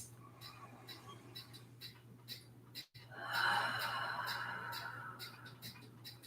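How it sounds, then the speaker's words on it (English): Slow, deep breathing during a gentle yoga flow, soft close inhales and a longer, fuller exhale, quiet over a low steady hum. "Deep breaths."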